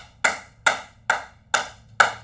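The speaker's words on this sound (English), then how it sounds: "Let's clap it up for that sister." Slow, evenly spaced claps ring out for a sister at a religious gathering, five crisp, close hand-claps falling in a steady rhythm with quiet gaps between them.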